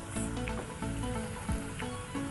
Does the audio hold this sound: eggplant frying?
yes